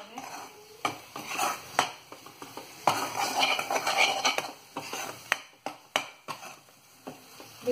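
Food being stirred and roasted in a pan for a mutter paneer dish, with repeated metallic clinks and scrapes of a utensil against the pan over a faint sizzle.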